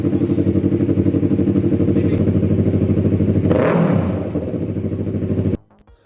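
Kawasaki motorcycle with a 180-degree parallel-twin engine, a loud, close, evenly pulsing idle with a brief throttle blip in the middle, then the sound cuts off abruptly.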